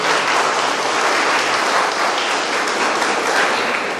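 A crowd at a public health event claps loudly and steadily for police department staff, a dense, even applause that fills the whole stretch with no speech.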